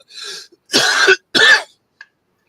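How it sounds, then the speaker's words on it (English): Three harsh, dry coughs from one person sound close and loud, each a short rough burst with gaps between, followed by a faint catch of breath. "It's a dry cough now."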